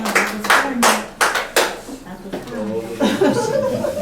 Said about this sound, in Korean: 다시 한번 서로 박수로 한번 격려할까요?